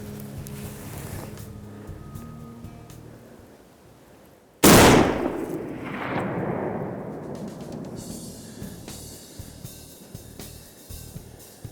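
A single loud rifle shot cracks out at a mountain goat on a hunt, with a long rolling echo that fades across open mountain terrain, following quiet outdoor ambience.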